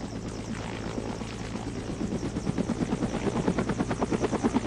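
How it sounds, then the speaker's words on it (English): A Roblox helicopter's engine spools up from a low steady drone into a rising, rhythmic rotor chop that grows louder and faster toward the end, with no talking over it. "I'm starting it back up."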